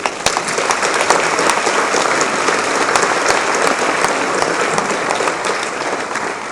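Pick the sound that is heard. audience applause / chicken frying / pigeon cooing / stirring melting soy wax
audience applause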